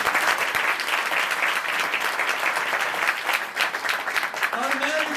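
Loud, continuous applause from a church congregation during a Punjabi prayer service, sustained throughout with a brief voice rising near the end.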